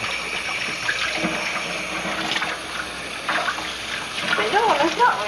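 Tap water runs steadily into a sink for rinsing, a continuous hiss and splash with a voice talking briefly over it toward the end.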